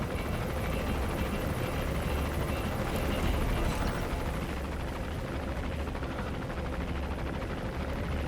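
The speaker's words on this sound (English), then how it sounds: "That's an enemy gunship." An enemy helicopter gunship in the Metal Gear Solid V video game thunders continuously with a loud, dense rotor roar that stays steady and close throughout, with no voices.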